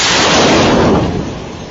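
A missile explodes in wartime footage, a loud, close, broadband roar that holds for about a second and then slowly fades into a rumbling tail, with no voices.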